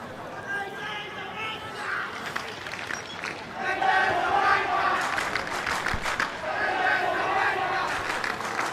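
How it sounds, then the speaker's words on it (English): A vocal crowd at a Queensland Premier Rugby match at Sunnybank, Sunnybank against GPS, shouts and yells continuously from the stands, swelling louder midway, with commentary voices mixed in. "Well, there's a vocal crowd here at Sunnybank."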